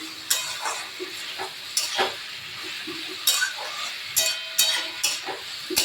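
Lightly boiled vegetables sauté in a pan for sambar dal, a low sizzle broken by repeated sharp stirring scrapes and clinks at an irregular rhythm, close by with no talking.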